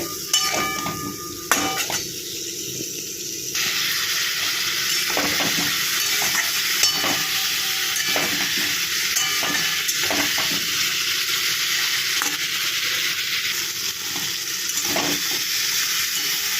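Spices being sautéed with cauliflower and potato for a bhetki fish curry give a loud steady sizzle, with repeated spatula scrapes and knocks against the pan throughout; no one talks.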